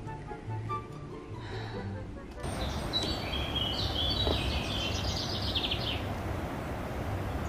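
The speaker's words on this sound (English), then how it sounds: "listen to the birds" Birds chirp and sing in a Norwegian village near a waterfall, thin high calls heard faintly over a constant rush of water, with a voice talking over them.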